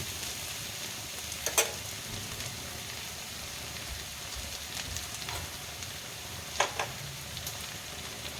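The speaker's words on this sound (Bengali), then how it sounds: "আলুগুলো সিদ্ধ হয়ে এসেছে এবার আমি মশলাটা করে নিই এগুলো ভাজা হতে থাক" Boiled potatoes and mixed winter vegetables frying in a pan, a soft, even sizzle throughout with a couple of faint clinks from a utensil against the pan.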